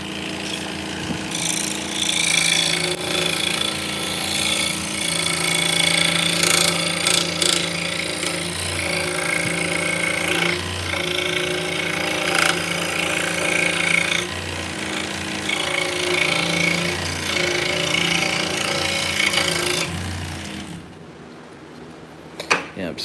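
Scroll saw cutting wood for drop spindles, a loud, steady buzzing whine that runs continuously with slight changes in pitch as the blade works through the piece, then drops away near the end.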